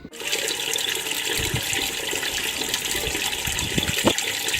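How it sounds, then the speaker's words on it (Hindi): Water gushes steadily over a person's head on a rooftop, a continuous splashing pour that starts abruptly and runs without a break, with a few spattering drops near the end and no voices. "मैं सोच रही हूँ थोड़ा सर में पानी डाल दूँ"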